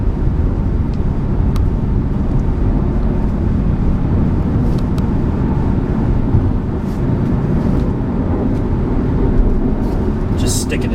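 A 2012 Ford Mustang GT 5.0 California Special cruising in sixth gear at about 50 mph, giving a steady, loud low rumble of engine and road noise that runs unbroken under a voice.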